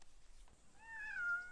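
A cat on a rural Australian homestead meowing to be let out: a single short, faint, rising-then-falling meow against quiet background noise.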